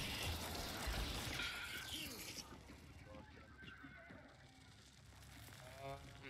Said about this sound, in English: That horse is a little ways away.